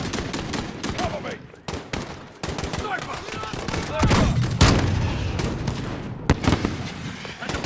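Dense gunfire in the Embassy mission of Call of Duty: Modern Warfare (2019), with rapid automatic bursts and sharp single shots crowding together loud and close while voices shout beneath the firefight.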